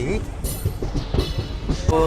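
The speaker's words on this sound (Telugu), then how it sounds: "మన ట్రైన్ దర్భంగా నుంచి అయితే బయలుదేరిపోయింది" Gangasagar Express pulling out of Darbhanga Junction on a cold day, with low rolling rumble and faint rhythmic wheel clatter running beneath close, continuous talking.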